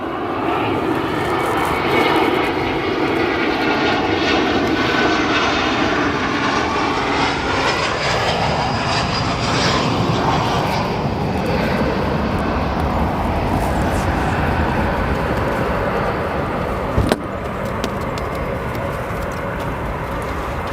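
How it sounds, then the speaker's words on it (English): An American Airlines Airbus A321 landing at Chicago O'Hare, a loud and sustained jet engine roar that slowly shifts in pitch as it passes, with a brief sharp click near the end. "we have an American Airlines A321 coming in."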